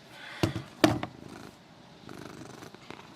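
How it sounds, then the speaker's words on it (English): A pet cat purring close by, with a couple of sharp thumps early on and a soft low rumble continuing afterward. "Sorry about that, that's my cat."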